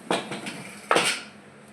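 Steel pots and dishes clatter in a home kitchen as they are picked up for scrubbing, two sharp metallic clanks about a second apart with a short ringing tail, close and fairly quiet, no talking.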